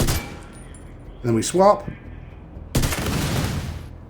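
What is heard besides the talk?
gunfire in the video game The Division 2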